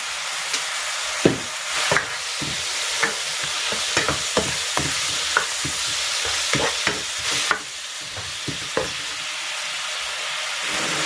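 Chicken with shrimp paste, soy sauce and pepper sizzles and fries in a pan for a Bicol pancit bato dish, while a utensil stirs and scrapes it in sharp, irregular clicks over a steady crackling hiss.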